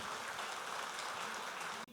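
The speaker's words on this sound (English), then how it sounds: "So a big round of applause for people who made it happen." Applause from an employee audience at a corporate event in Pune, a steady dense patter of many hands sustained evenly before cutting off abruptly at the end.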